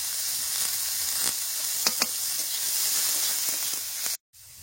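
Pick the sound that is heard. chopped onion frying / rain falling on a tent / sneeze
chopped onion frying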